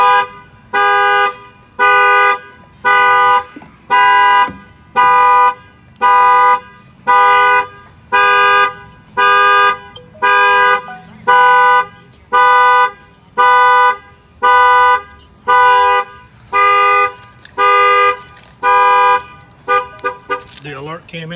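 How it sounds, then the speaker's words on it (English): A Linkr car alarm sounds after a window is struck, blaring loud repeated siren blasts in a steady on-off rhythm, about twenty pulses, ending with a few irregular chirps. "Alarm will fire off."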